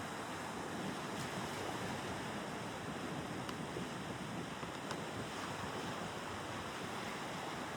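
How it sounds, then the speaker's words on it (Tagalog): A river in a mountain area flows with a dense, steady rushing wash of water, broad and continuous, mixed with some wind noise and no speech. "Ito guys, ilog na ito."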